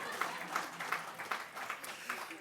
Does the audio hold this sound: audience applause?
yes